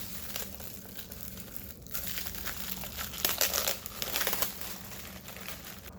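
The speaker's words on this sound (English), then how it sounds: "my tape and take the back off of it" Crinkling, crackling rustle of backing being peeled off a piece of tape for a vinyl stencil on a silkscreen frame, steady and close throughout with a slightly louder stretch midway.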